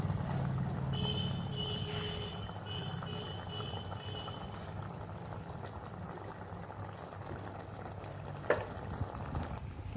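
A pot of thin vegetable broth with jujube simmers on the stove, giving a steady low bubbling and hiss that runs throughout, with a faint clink near the end.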